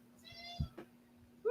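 A cat meows once, fairly faint in a quiet room, followed by a soft thump and a brief rustle, with a louder sharp sound at the very end.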